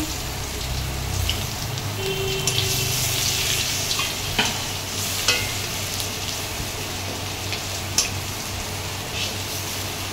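Whole garam masala with bay leaf and freshly grated garlic crackle and sizzle in hot oil while being stirred, a continuous close frying hiss broken by occasional spoon scrapes and sharper pops.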